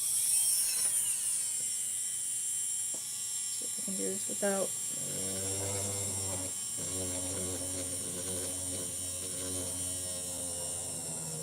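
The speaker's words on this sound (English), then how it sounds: "came on early so I could drill for a little bit" A small electric drill whirs steadily at close range while drilling craft keychains, its motor buzzing continuously while a person talks over it.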